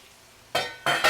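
Carrots tipped into a pan already frying onions and garlic, two bursts of loud broadband sizzle starting mid-clip after near silence, the second swelling brighter.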